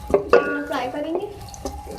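Two medium onions frying in oil in a pot for Balochi aloo gosht, with intermittent stirring scrapes and clinks over a soft sizzle, close and moderately loud, under a faint voice.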